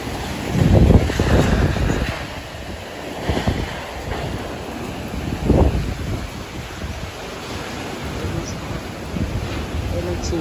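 Strong wind during Typhoon Tino roars and buffets the microphone in loud, irregular gusts, with a continuous rushing background and a voice speaking faintly beneath it.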